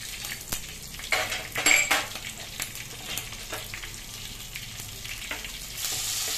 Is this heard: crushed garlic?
yes